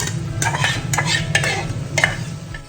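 Chicken butter masala being stirred in a pan, with a loud, close sizzle and several crisp scrapes and clinks of a spatula against the metal at an uneven pace.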